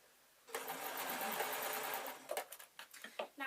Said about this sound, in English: allowing the sewing machine to pick up the gather